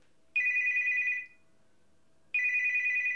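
A telephone rings in two bursts, a steady electronic trill sounding for about a second, pausing, then starting again, clear and fairly close with no talk over it.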